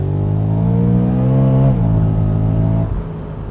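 A 2013 BMW M3 with a supercharged V8 launches hard with traction control off, its engine note climbing loud and steady, then dipping suddenly near the end, as if shifting or losing grip during wheel spin.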